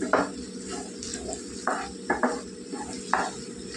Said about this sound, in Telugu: కొద్దిగా కలుపుకుందాం నూనెలోకి